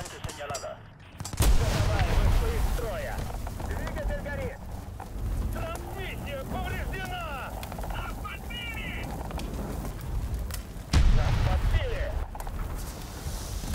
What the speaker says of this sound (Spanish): Me están disparando de todas partes